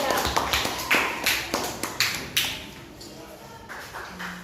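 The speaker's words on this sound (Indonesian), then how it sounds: "Kalian berikan aplaus." Classroom of students giving group 3 a round of applause, a short burst of uneven clapping and taps that fades quickly, with some voices in the room.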